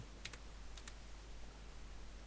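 Java code being typed on a computer keyboard in NetBeans: a few quick, faint key clicks in two small pairs over a steady low background hum, with no speech.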